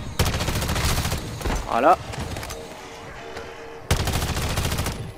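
Rapid bursts of automatic gunfire in a shooter video game, loud and dense, breaking off briefly before resuming, with a voice talking over part of it.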